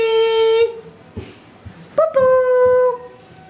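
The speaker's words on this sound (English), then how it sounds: "Puppy!" A French Bulldog puppy whimpers and howls in long, high, wavering cries, close and loud, broken by a short pause before a second drawn-out whine.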